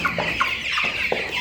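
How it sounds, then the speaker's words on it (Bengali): Tiger breed chickens on a poultry farm cluck in a run of short, repeated calls, close and fairly clear over a steady background hiss, with no one talking. "এখন মাশাল্লাহ কত মুরগি দেখছেন আপনারা"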